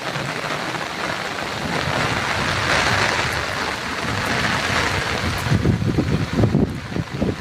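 Heavy rain pours over a Sundarbans village, a loud, dense roar of water on surfaces with a deep rumble of thunder, steady throughout, then heavier close drips and splashes near the end.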